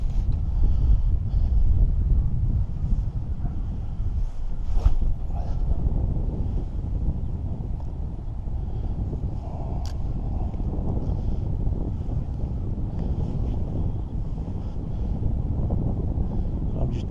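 Strong wind buffets a microphone on a UK fishing pier by the sea, a steady loud low roar that holds throughout with slight gusting and no talk.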